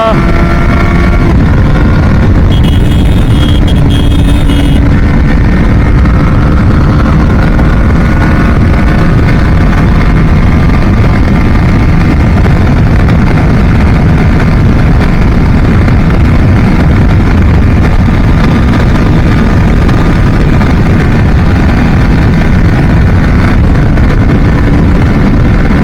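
A BMW G 310 GS motorcycle pulls hard in fourth gear near 7000 RPM on a top-speed run, its engine droning under heavy, constant wind roar that buffets the microphone.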